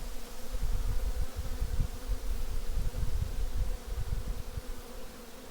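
Dense, steady buzzing of many honeybees close by, a continuous droning swarm with no voices.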